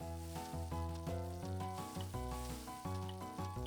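An onion sizzles in a frying pan in the Cooking Mama video game, a steady hiss running under a loud, bouncy musical melody.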